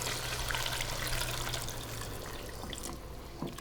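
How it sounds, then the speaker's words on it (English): Liquid is poured slowly into a white sauce roux in a pan, giving a steady, close trickling stream with a soft sizzle that continues evenly throughout. "slowly pour this into the white sauce or the roux"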